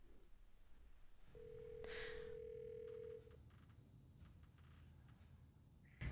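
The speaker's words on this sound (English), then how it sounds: "CapTel dials the number automatically." A CapTel 2400i captioned phone auto-dials a speed dial number, giving a steady tone of about two seconds with faint clicks around it, set against quiet room hiss and ending on a short louder click.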